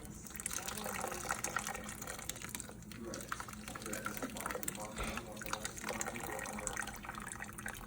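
Liquid pours and splashes steadily as milk is strained for Jamaican cooking, a continuous wet rushing under a busy kitchen background.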